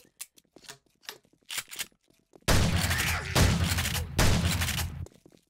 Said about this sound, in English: This gun makes noise, but it's powerful.